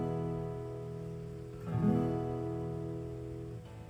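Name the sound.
guitar chord played with fingers on the fretboard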